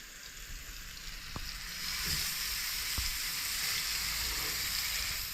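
Pieces of fish frying in hot oil make a continuous, bright sizzle that swells slightly partway through, with a couple of faint clicks and no talking.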